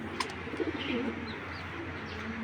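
Large breeder tournament pigeons of the Giribaz racing line coo in a few soft, throaty bursts close by, over a steady background hum with no talking.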